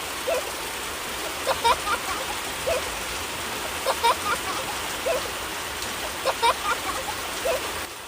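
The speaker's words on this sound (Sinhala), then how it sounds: "හැමතැනම වගේ බාබුගේ ගමටත් වැස්ස පටන් අරන් තිබුණා." Steady rain falls over a cartoon village, a continuous soft hiss with faint intermittent patters and drips, heard alone at low level.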